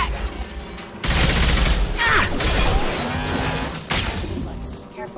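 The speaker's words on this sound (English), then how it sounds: "Taking heavy fire!" Heavy gunfire in Mass Effect 2 combat: loud, dense bursts of automatic fire and sharp impact crashes. The volleys come in waves, with brief game voice callouts in between.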